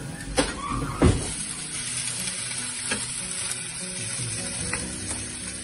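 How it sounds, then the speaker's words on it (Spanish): Onion tipped into hot oil and frying, a steady loud sizzle with a few sharp clatters of stirring, heard alone without talk. "Volcamos toda la cebolla, dejamos que caramelice un poco."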